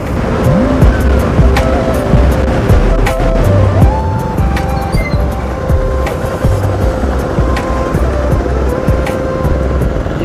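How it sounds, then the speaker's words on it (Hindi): Busy road traffic on a wide road in Rishikesh, with cars and scooters rumbling past continuously, engines revving and horns beeping over a dense, loud roar. "यार, जहाँ पे रोड चौड़ी है ना वहीं पे ज्यादा ट्रैफिक है"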